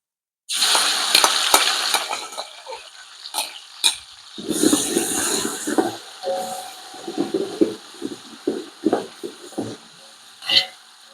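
Garlic hits hot oil with onions for Thoothukudi konkadu chicken biryani, bursting into a close, bright sizzle that settles into steady frying, broken by stirring scrapes and clatters.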